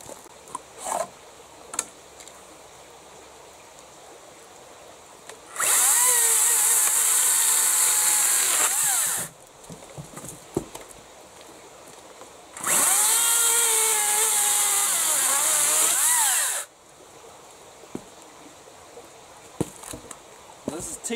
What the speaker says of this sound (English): See how the chainsaw goes.